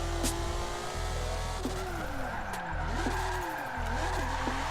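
A 700hp Mitsubishi GTO drift build in Forza 7 on stock 30 PSI boost, its engine droning and rising and falling in revs while the tires squeal and skid continuously, loud and close, with no voices.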